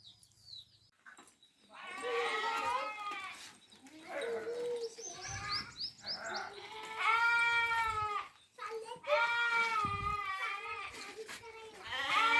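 Several goats and sheep bleat one after another, wavering cries rising and falling nearby, with a few short chirps between them.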